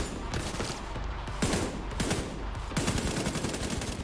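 Dense, rapid bursts of automatic gunfire firing incendiary fire ammo in The Division 2, crackling steadily and loudly with heavier volleys near the middle and end, no talking over it.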